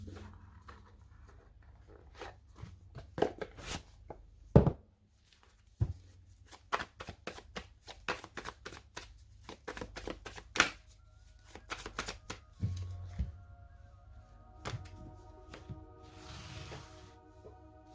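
Light Seers Tarot cards shuffled by hand in a quiet room, a long run of crisp riffling bursts and soft slaps, with brief pauses and a faint hiss near the end.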